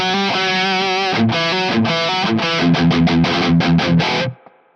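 Electric guitar through a Marshall Studio JCM900 with a Zakwild 44 overdrive and a touch of reverb, loud distorted chords strummed in a rhythmic run before stopping and ringing out briefly.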